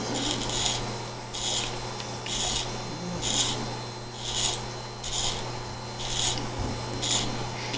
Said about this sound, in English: I'm going to thread it until the hole is threaded all the way through